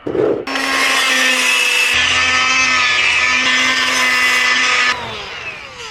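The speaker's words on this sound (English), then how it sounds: "I'm going to Dremel out onto the marks, and then I have to Dremel out the bottom as well" A Dremel rotary tool cuts into a metal trailer front jack mount, a steady high-pitched whining grind that holds for about four and a half seconds and then winds down, close and loud with no talking.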